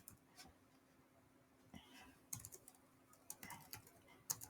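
Quiet keystrokes on a computer keyboard come in scattered light taps, growing busier toward the end, close but faint with a soft voice present.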